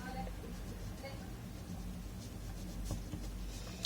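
Pen scratching across paper while a math problem is worked out, faint strokes under steady background hum and nearby talk.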